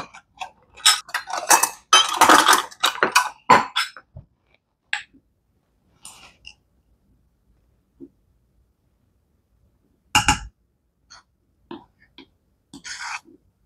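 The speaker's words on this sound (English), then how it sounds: "So you spoon your flour into your measuring cup and then you level it." A spoon scrapes and taps flour into a metal measuring cup, then levels it, with a quick cluster of clinks and scrapes followed by sparse, isolated taps and ticks amid silence.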